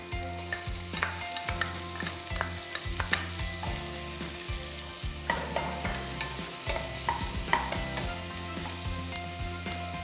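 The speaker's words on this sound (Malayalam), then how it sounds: "ഗാർലിക്കിൻ്റെ നല്ലൊരു മണം വരുമ്പോൾ അതിലേക്ക് ഒരു അണിയൻ, ഒരു മീഡിയം സൈസ് അണിയൻ ചോപ്പ് ചെയ്തത് ആഡ് ചെയ്യാം" Chopped medium onion sizzles in a pan with garlic for leek and potato soup, a steady crackling fry close by, punctuated by repeated stirring scrapes and clinks, with no talking.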